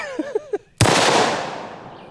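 A double barrel 1911 pistol firing .45 ACP rounds from both barrels at once: one sharp, loud blast that decays over more than a second, with a few brief voice sounds just before it.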